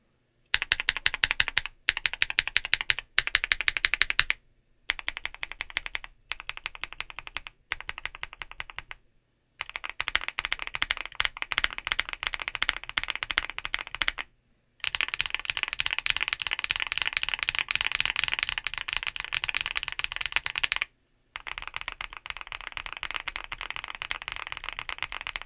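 Someone types on a keyboard fitted with CIY Naraka linear switches, producing dense, rapid keystroke clatter in steady bursts separated by brief pauses, close and clear with no talking.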